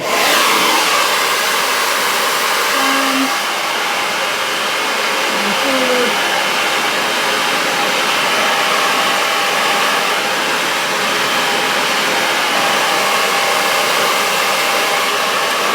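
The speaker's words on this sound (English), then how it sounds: "I'm trying to talk before I just kind of blast you all with a hairdryer" A hair dryer blows loudly and steadily close to the microphone, a constant whooshing roar with slight shifts in pitch and no talking.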